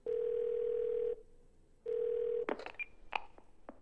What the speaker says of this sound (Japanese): 緊急電話。